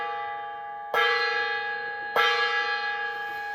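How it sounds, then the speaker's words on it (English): A gong struck twice during an energy-clearing ritual, each hit a bright metallic strike that blooms into a long shimmering ring and slowly decays, close and alone with no voices. "I didn't do the gong last time."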